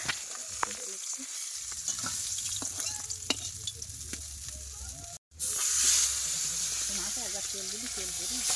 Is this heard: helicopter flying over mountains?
no